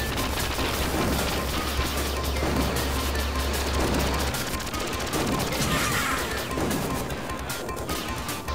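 Dense, continuous gunfire and explosive crashes from the 1991 Irem arcade shooter Gun Force, loud and unbroken throughout, with rapid bursts, smashing impacts and booms layered over driving game music.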